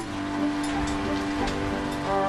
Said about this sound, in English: The rain pelted down.